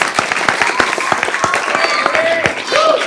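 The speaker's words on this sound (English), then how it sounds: "I think we should give him a big round of applause" A round of applause at a county board of commissioners meeting, with individual claps sounding sharp and distinct in a modest crowd, a few nearby voices briefly audible among them.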